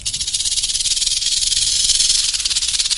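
A snake's steady, harsh hiss runs continuously for about three seconds, close and unbroken, with no voices or other sounds.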